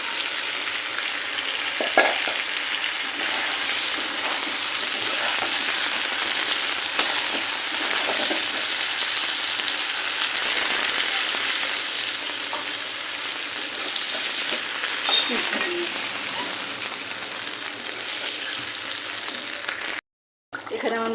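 Koi fish frying in spiced, cooked-down masala in a pan gives a loud, steady sizzle with occasional scraping as the food is stirred. The hiss runs almost unbroken and cuts out only briefly near the end.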